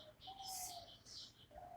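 Birds calling on a quiet, empty street at dawn: a few short whistled calls and soft pigeon-like coos, faint and a little distant, with no talking.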